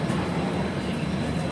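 Brahmaputra Mail, train No 15658, at New Bongaigaon Junction in Assam, with a steady, dense rumble of rail noise holding at an even level throughout, no voices.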